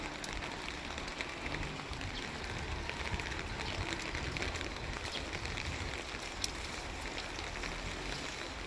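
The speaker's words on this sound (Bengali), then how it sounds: "পুরো বৃষ্টি।" Rain pours steadily outdoors near a work site in a police colony, a dense continuous hiss of falling drops with no pauses and no talk.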